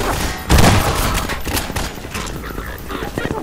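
Combine soldiers firing in Half-Life 2, a burst of loud gunfire with heavy thuds and scattered shots, mixed under a player talking.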